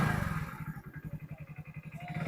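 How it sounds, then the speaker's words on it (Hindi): Motorcycle engine turning over and idling, a quick steady low throb of pulses close by, fairly quiet with no talk. "देखिए मैं बाइक को स्टार्ट करूँगा"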